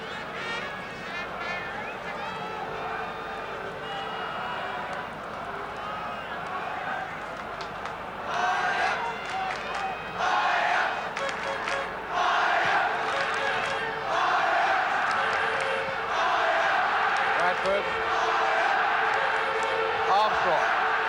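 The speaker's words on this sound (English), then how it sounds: "Crowd truly getting behind Ajax now" A stadium football crowd at Ajax versus Arsenal roars and chants steadily for Ajax, swelling louder partway through into a sustained wall of cheering, with a commentator's voice talking over the noise.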